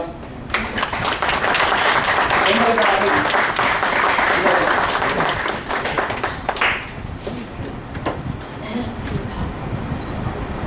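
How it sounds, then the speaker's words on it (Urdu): Loud, dense applause from an audience at an Urdu literary gathering, sustained for several seconds and then thinning into scattered claps near the end. "کم سے کم ظہیر صاحب کے لیے زوردار تالیاں."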